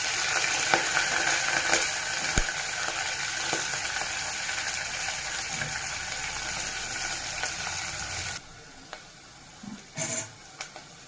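Green chillies dropped into hot oil in a kadai with tempering spices, a loud continuous crackling sizzle with sharp pops for most of the stretch, then dropping to softer scattered sizzles and stirring clinks near the end.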